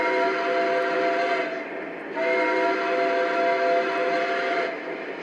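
Lionel ES44 Nickel Plate Road 8100 model train sounding its whistle: two sustained chord blasts, the first about a second and a half, a short gap, then a longer one, steady and fairly loud.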